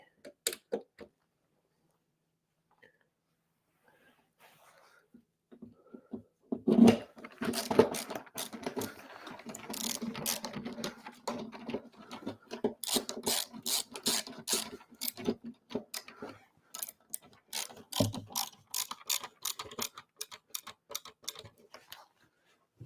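A hand ratchet drives screws during assembly of a Galaga pinball machine, giving a close, busy run of rapid clicking and ratcheting bursts that begins after a quiet stretch and keeps on with brief pauses.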